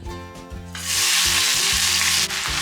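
Chopped ginger dropped into hot mustard oil, bursting into a loud, steady sizzle that holds after a quieter opening, with a low hum underneath and no voices.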